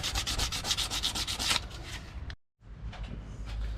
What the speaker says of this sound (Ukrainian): чуть-чуть мельчу наждачку, щоб риску перебити щоб адгезія лучше була, щоб держалась красочка лучше